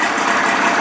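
A 55 hp Evinrude outboard motor running steadily, a continuous loud close engine drone with a rough, even texture and no talk over it.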